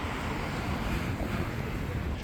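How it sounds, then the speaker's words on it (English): Strong wind buffets the microphone in a constant broadband roar near the beach in Benidorm, with no clear pauses. "it is getting quite windy out here today"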